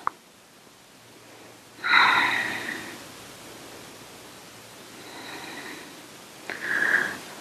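Deep yogic breaths while lying in Shavasana, a long audible inhale followed by a softer exhale and another breath near the end, close and isolated after a small tap.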